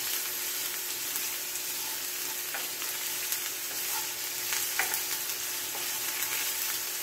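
Carrots fry in vegetable oil in a pan, giving a steady, even hiss with faint scattered crackles and no talk.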